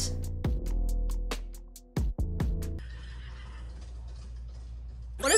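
A horse neighs loudly and close, a long wavering whinny broken by a few sharp pulses, followed by softer rustling noise.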